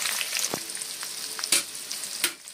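Onion, green chili and curry leaves frying in hot oil in a pan, a continuous bright sizzle punctuated by a few sharper crackling bursts as they are stirred.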